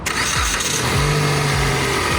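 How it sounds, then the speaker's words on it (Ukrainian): A Hyundai Getz or Kia Ceed car engine cranks briefly and catches, then settles into a steady, close idle with no talking. "Зараз заведемо, побачимо, як вона працює"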